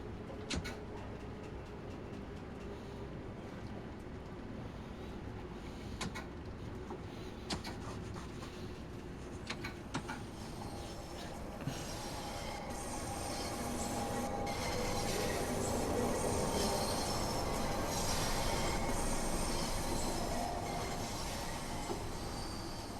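A 1972 Mk2 London Underground tube train on the Bakerloo Line in Train Sim World 5 rumbles steadily, with wheel clacks and brief squeals, swelling louder as it speeds toward Charing Cross, no talk.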